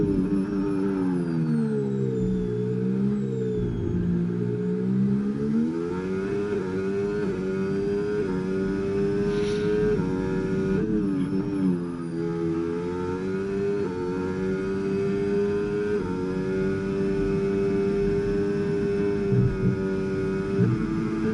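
Race car engine on a hot lap at the Saudi circuit in a racing game: a loud, sustained high-revving drone rising and dropping through gear changes and braking zones, with tonal whine throughout and no talking.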